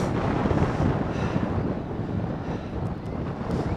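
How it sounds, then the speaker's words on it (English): Strong wind buffets the microphone with a constant low roar and rumble on the Northumberland coast shoreline, loud and steady throughout, with faint water sounds underneath. "it's getting a bit windy"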